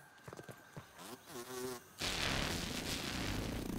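Mosquitoes buzzing in the video game Grounded, a thin wavering whine up close that is broken by a few short bursts and then drowned by a sudden loud, steady noise.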